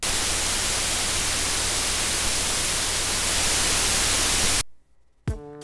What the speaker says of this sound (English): So that's just like a standard white noise generator.